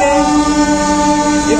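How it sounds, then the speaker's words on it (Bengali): Dhauli Express pulling out of Puri station, heard from inside a third AC coach: a steady, loud rolling drone with sustained tonal hum running the whole time. "একদম 10:25 আমাদের ট্রেন পুরি ছেড়ে"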